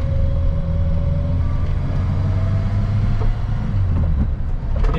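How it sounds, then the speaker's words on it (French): The 1.3-litre engine of a 1986 Peugeot 205 SR runs steadily, giving a continuous low mechanical drone that is fairly loud and close, with no talking. "Et le moteur fait un bruit tout à fait caractéristique."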